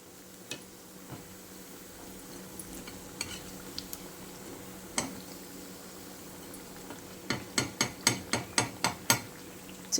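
Plain vada batter, without onions, dropped into hot oil: a quiet continuous sizzle and bubbling with scattered clinks, then a quick run of sharp scraping taps toward the end.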